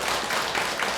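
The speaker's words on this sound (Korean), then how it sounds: "박수 한번 부탁합니다." A roomful of people claps steadily at a Buddhist temple dharma gathering, the applause dense and even, moderately distant, with no voices over it.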